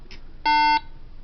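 A Motorola two-way radio gives a single short electronic tone as it powers up, clean and fairly close, with a faint chirp just before it against a quiet background.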